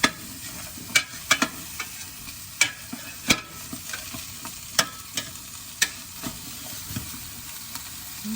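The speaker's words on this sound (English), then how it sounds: "I'll give these a quick stir down here" A spoon stirs a large bowl of Southern white beans cooked with Tasso and ham hocks, giving a run of soft, wet scrapes and clinks at an irregular rhythm, close and moderately loud with no talk.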